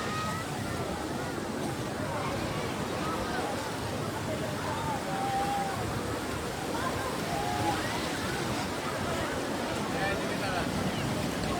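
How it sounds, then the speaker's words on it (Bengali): Sea waves at Cox's Bazar beach make a steady, broad roar that washes on without pause, with wind buffeting the microphone and distant crowd voices mixed in. "এই যে ঢেউ আসতেছে।"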